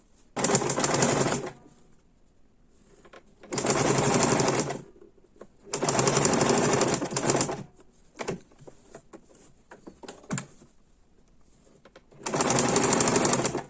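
An electric sewing machine stitches fabric pieces together into a cloth ball, running in four loud, steady whirring bursts of a second or two each, separated by quiet pauses filled with small handling clicks.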